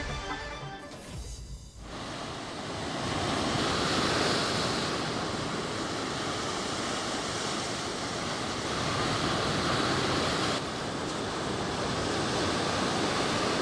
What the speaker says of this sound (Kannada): ಮಂಗಳೂರು ಹೊರವಲಯದ ಉಚ್ಚಿಲ ಭಾಗದಲ್ಲಿ ಕಡಲ ಅಬ್ಬರ ಹೆಚ್ಚಾಗಿದೆ.